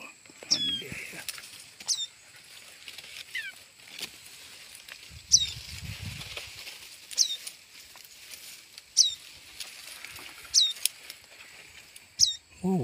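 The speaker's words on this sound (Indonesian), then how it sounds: "Ada burung guys, burung." Young red-headed prinias give thin, high chirps in a quick repeating series of about nine short calls spread across the clip, fairly close, with light rustling and patter below and no talk.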